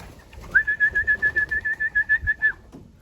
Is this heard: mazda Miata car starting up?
no